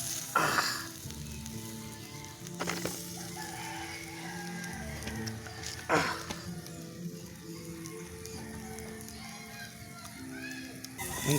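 Tilapia frying in hot oil outdoors by a river, a steady crackling sizzle running throughout with a rooster crowing and hens clucking nearby, occasional people talking in the background.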